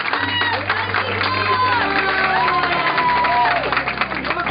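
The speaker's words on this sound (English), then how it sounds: "let's give Mom a nice big round of applause" Wedding guests clapping and cheering in a busy reception room, a dense crowd noise with shouts and voices over music, steady and fairly loud throughout.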